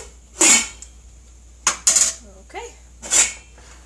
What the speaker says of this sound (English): so let's get a lid on this